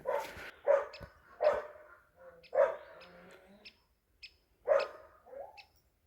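A shaggy dog barks repeatedly in a rural yard, loud and close, with five or six sharp barks at uneven intervals and faint bird chirps between them.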